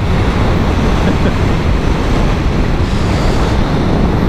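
Steady, loud wind roar buffets the microphone while riding a used Honda VFR1200F sport-touring motorcycle at speed, a continuous broadband rush with no pauses and no voices.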